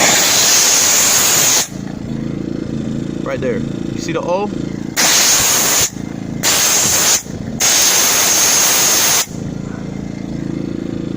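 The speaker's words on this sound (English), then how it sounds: "I'm going to hit it with steam and show you how we clean it." Loud bursts of steam cleaner hissing as it cleans a car badge or emblem, several long blasts with pauses between them, while someone speaks briefly between sprays.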